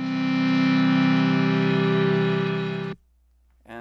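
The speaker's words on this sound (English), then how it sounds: "Distortion." A bowed glockenspiel sample pushed through heavy distortion rings out as a thick, buzzing, sustained tone with a gritty edge, holding for nearly three seconds before stopping suddenly, with nothing else heard.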